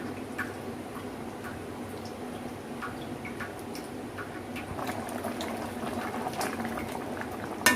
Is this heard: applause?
no